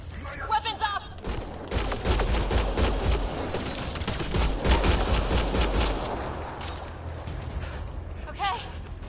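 Bursts of rapid gunfire in the sci-fi video game Mass Effect Andromeda, dense and loud for several seconds with voices speaking before and after, then fading.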